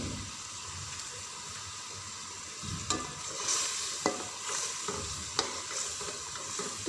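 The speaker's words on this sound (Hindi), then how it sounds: "तो 5 मिनट मैं कीमे को फ्राई करूँगी," Minced meat (keema) sizzles in a pot of oil while a spoon stirs it, the steady fry punctuated by several sharp scraping clacks against the pot, heard close with no one speaking.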